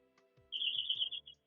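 A household doorbell rings with a bright, bird-like chirping trill, a single short burst of rapid warbling notes, faint and somewhat distant indoors.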